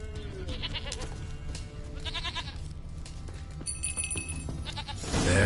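A goat in a video game bleats repeatedly over a few seconds, wavering nasal cries near and fairly loud, set against a low ambient game background with a louder rumble at the end.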